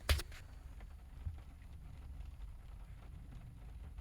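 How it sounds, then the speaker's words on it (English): Rain falls outside as a faint, steady patter and hiss heard from indoors, with a soft knock at the start and no talking. "That's rain."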